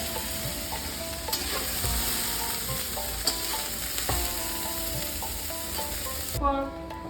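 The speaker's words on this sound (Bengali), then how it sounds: "এই জন্য আমি আলাদা করে এটা ভেজে নিই" Snake gourd pieces sizzle steadily in hot oil in a pan, a constant close frying hiss broken by occasional clinks and scrapes of a spatula stirring.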